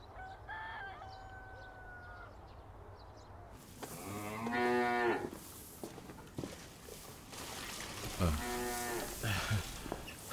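Cows moo loudly in a cattle shed, with two long, close calls in the second half over steady barn noise, while a rooster crows faintly and a few birds chirp earlier on.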